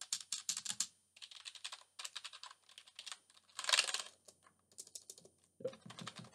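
Typing on a Yenkee YKB 3100 Ambush keyboard, with bursts of crisp, close key clicks separated by short pauses and one louder clattering cluster midway.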